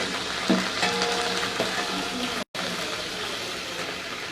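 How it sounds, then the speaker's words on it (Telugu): Cumin seeds frying in a pan on a stove, the first step of a stuffed brinjal curry, make a steady close sizzle with a few faint clinks and a momentary break. "స్టవ్ మీద మనం పెట్టుకొని తర్వాత దానిలో జీలకర్ర వేసుకోండి."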